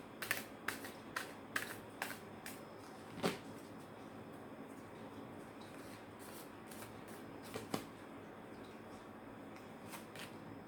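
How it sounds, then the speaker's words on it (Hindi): Tarot cards are shuffled and drawn close up, with a quiet riffle and a series of crisp snaps and flicks at an uneven pace over soft room hiss. No one speaks. "टैरो से भी हम कुछ कार्ड्स निकालेंगे।"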